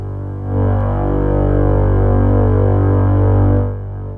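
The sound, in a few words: continuous synthesizer drone from a Eurorack oscillator module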